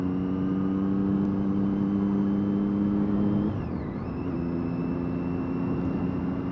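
A Triumph Daytona 675 triple holds a steady, droning engine tone under strong wind rush while riding, then the pitch drops and settles as the rider shifts or eases off midway.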